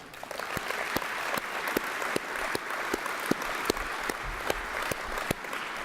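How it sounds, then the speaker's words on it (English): Conference audience at an opening ceremony applauds the volunteers, a steady wash of many hands with sharper individual claps standing out, moderately distant and continuous. "We should give them a round of applause."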